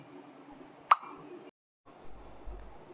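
Fried pointed gourd and paneer tipped into a pan of curry land with a single sharp plop, followed by a brief pause and low, soft rumbling from the pan.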